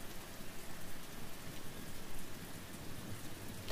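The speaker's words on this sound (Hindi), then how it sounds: "बैकग्राउंड में पानी की बारिश की आवाज आ रही है" Steady rainfall in The Walking Dead video game, a dense continuous hiss of drops on surfaces with no break, filling the background at even loudness for the whole stretch.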